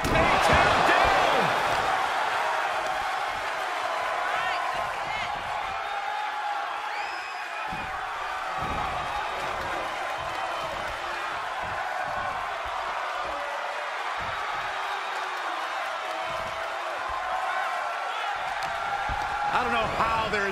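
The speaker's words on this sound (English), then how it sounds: "The sound of this crowd is deafening, and he's asking for more" A loud wrestling crowd at a live indie wrestling event roars and cheers continuously, a dense wall of sound with scattered shouts and thuds, while a commentator talks over it.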